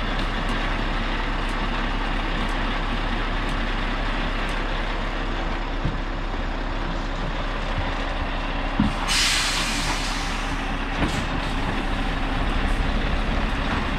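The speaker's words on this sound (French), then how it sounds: "Et voilà, la cabine quitte la remorque." Scania R580 tractor unit idles loudly with a constant low diesel rumble as it pulls away from its trailer, with a sharp hiss of air brakes releasing midway and occasional clunks.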